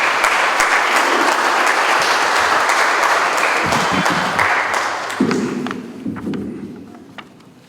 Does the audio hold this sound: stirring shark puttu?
no